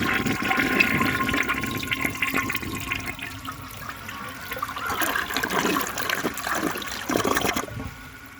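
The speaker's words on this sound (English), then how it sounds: "So I'm going to flush it and see what this problem is." A 1953 AllianceWare toilet, suspected of a clogged rim jet, flushes with a loud, steady rush of water that swirls and gurgles for about eight seconds before tapering into a trickle.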